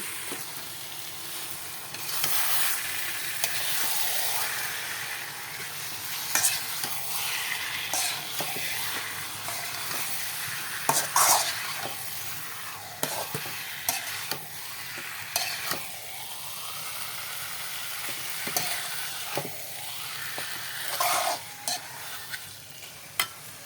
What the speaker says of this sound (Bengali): মাংসটা এখন দিয়ে ভালোভাবে কষিয়ে নেব